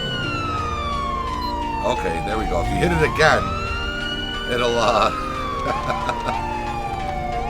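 A police car siren from GTA V with the LSPDFR mod wails in long sweeping rises and falls, loud and close. Someone talks briefly over it.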